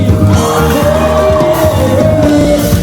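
A youth rally crowd in church screams and yells together in a loud, sustained roar that fills the space without a break, with steady tones running underneath.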